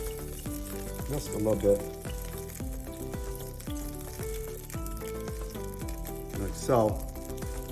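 Beef pieces brown in hot oil in a stew pot, giving a steady sizzle under background music, with a brief stirring flare-up. A person talks briefly over it.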